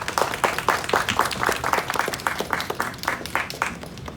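Audience applause welcoming Rebecca at an evening event, a dense, steady wash of many hands clapping that holds throughout and fades slightly toward the end.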